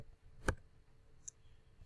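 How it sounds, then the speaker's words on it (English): Single sharp keypress on a computer keyboard, the tab key, a crisp near click followed by a fainter tick a moment later in an otherwise quiet room. "I'm just going to hit tab each time."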